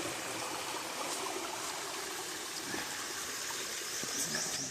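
A stream swollen after a storm flows over the trail crossing with a steady, faint rushing and babbling hiss.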